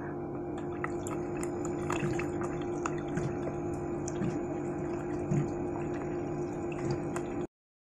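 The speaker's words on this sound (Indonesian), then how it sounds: "ini saya masukkan ya airnya ke dalam toples ini" Water poured into a plastic jar for hatching artemia, a steady close trickle with small drips and splashes throughout, stopping abruptly near the end, no talk.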